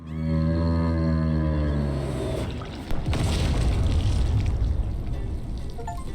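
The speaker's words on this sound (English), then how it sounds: "Trigger whale explosion." A whale explosion in the video game Hell Pie: a loud, sustained low rumbling boom with a tonal, groaning start that breaks into a crackling, splashing roar, holding steady for several seconds with no talk.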